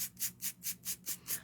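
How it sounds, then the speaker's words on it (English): An emery board rubs back and forth across paper to sand away stray ink, producing six evenly spaced raspy strokes in a steady rhythm, close and fairly quiet with no voices. "just sand it away with an emery board"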